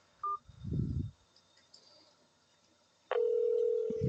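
A telephone line rings while calling a real estate office: a short electronic chirp, a low rumbling handling noise, then a loud sustained steady ring tone that runs to the end.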